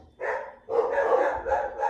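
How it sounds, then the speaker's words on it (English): A house dog barks at someone at the front door, three loud bursts of rapid barking close by, each separated by short pauses, with no speech over it. "Sorry, I think someone's at our door. Sorry about that. The dog's barking."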